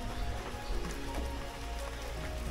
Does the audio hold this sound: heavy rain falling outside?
yes